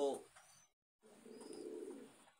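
A pet pigeon gives a soft, close coo, then falls briefly silent before a low, throaty cooing phrase resumes at moderate level.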